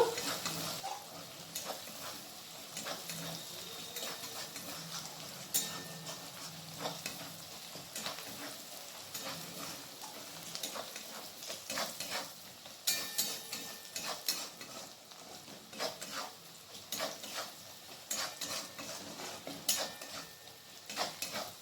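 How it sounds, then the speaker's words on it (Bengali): Chopped onions sizzle in oil left over from frying chicken, a steady soft crackle under repeated scraping and stirring clicks of a utensil in the pan, no talking. "পেঁয়াজ কুচিটাকে এখানে লাল লাল করে ভেজে নেব।"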